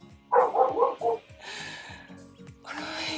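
A dog barks four times in quick succession, fairly close, followed by noisy snorting or huffing sounds.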